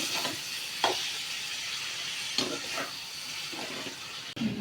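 Beans for payar mezhukkupuratti sizzle steadily in a pan while a spoon stirs and scrapes through them, with a few louder clacks against the metal, close and continuous.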